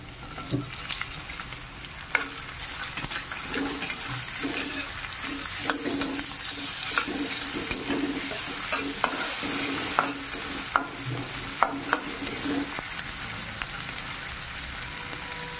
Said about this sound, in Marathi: याच्यात आपल्याला कांदा घालून घ्यायचा,